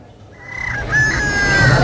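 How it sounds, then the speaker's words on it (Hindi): Rooster crowing at a village cockfight fair, one loud, close, drawn-out crow rising out of quiet background murmur and holding strongly to the end. "हम बात कर रहे हैं मुर्गे के दंगल की"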